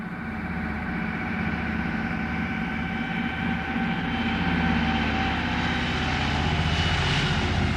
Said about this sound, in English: The Caribou takes off on its third trip to Thule